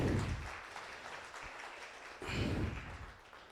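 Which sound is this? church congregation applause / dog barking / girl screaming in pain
church congregation applause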